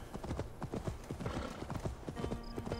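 Horse hooves pound in a steady, rapid clip-clop as a heavily armed rider gallops through a city in Assassin's Creed Valhalla, with an occasional whinny and background game ambience.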